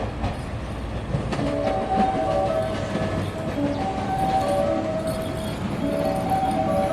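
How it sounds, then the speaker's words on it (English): A diesel limited express train pulls into Kamigori station in Japan, a steady rumbling roll with squealing brake tones and metallic clinks, loud and close throughout. "And here's my train."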